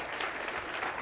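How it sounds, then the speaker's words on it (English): Audience applause at a magic show, a steady wash of clapping from a crowd welcoming a volunteer on stage, loud and continuous for about a second. "Everybody give Tristan a big round of applause."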